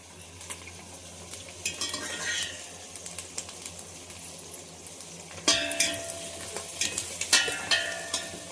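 Ginger garlic paste fries with pieces of Korameenu fish in a pan for fish curry, a steady close sizzle with scraping stirs and clinks of a utensil. Louder stirring bursts come near the end, and no one speaks.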